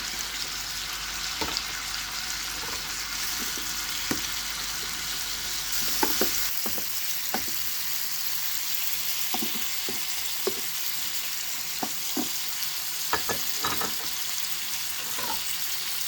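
Sliced garlic and chicken frying in a pan on the stove, a steady broadband sizzle with scattered sharp clicks and pops from stirring or shifting food, close and moderately loud with no talking.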